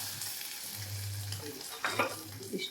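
Hot fried tempering poured into obbattu saaru (holige saaru) sizzles and bubbles, with a low hum underneath and a sharper burst of crackle near the end, close and moderately loud.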